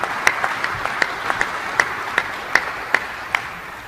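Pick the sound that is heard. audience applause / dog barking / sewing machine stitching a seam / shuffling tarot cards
audience applause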